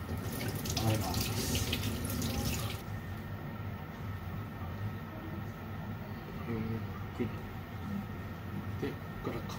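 Raw squid, past its season, being rinsed under a running kitchen tap, a steady rushing water stream into the sink that continues throughout at close range.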